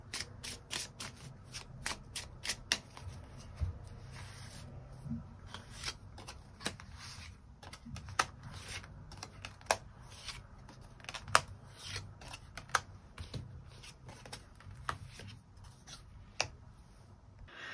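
Tarot cards are shuffled and drawn by hand, giving repeated crisp riffling and snapping card sounds in quick irregular bursts, close and quiet against a soft background, with no talking.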